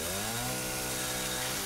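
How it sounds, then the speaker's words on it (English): A chainsaw in Resident Evil 7 runs at full throttle, a loud continuous buzzing drone with a steady harmonic whine, close and unbroken for the whole moment. "It's gonna break the chainsaw, isn't it?"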